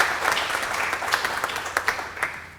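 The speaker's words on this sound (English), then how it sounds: "A round of applause for him." Moderate applause from an audience at a panel event honouring a guest. The clapping is fairly distant and soft, with a few sharper individual claps standing out as it gradually thins and fades.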